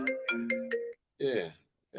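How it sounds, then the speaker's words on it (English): A phone rings in short repeating electronic tones, steady and fairly close, and a voice speaks briefly right after. "Y'all excuse my phone ringing and stuff."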